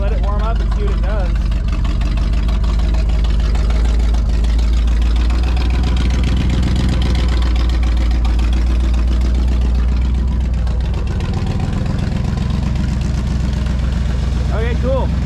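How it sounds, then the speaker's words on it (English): A 1979 Ford F150 engine idles steadily at close range throughout, a low continuous rumble with voices speaking over it. "We're idling, so that's good."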